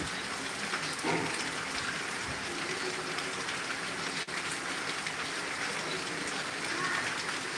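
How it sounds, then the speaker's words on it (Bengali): Heavy rain pours steadily along the Dhaka–Tangail highway, a dense, even hiss that holds at the same level throughout. "ঢাকা টাঙ্গাইল মহাসড়ক দিয়ে প্রচুর গাড়ি যাচ্ছে আপনারা দেখতেছেন কিছুক্ষণ পর পরই গাড়ি যাচ্ছে এই প্রচণ্ড বৃষ্টির মাঝেও"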